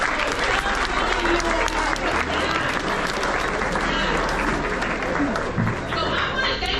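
An audience at a school gathering claps and applauds to congratulate the school, a dense continuous burst of many hands close by, with a few voices mixed in.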